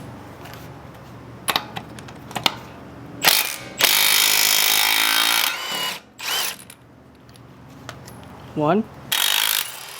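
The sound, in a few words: Milwaukee M12 impact wrench removing lug nuts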